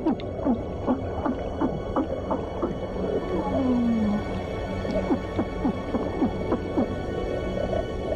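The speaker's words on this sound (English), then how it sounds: "Even this little porcupine fish bleats around. It creates this sound with its swim bladder." An underwater soundscape of scattered clicks and crackles with a low, drawn-out bleating grunt from a porcupine fish's swim bladder rising in the middle.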